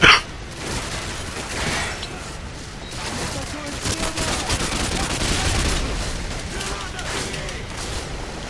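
Rapid gunfire bursts from the video game Modern Warfare 2, a dense rattling fusillade with a loud shot at the start and continuous crackling firefight throughout.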